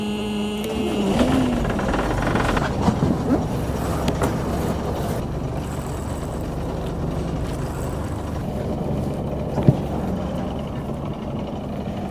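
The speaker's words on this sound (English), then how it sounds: "turn on the engine, just get to a good anchoring spot." A sailboat's inboard engine runs steadily on the Columbia River, a continuous low droning rumble with faint mechanical knocks and a brief clunk near the end, no voices over it.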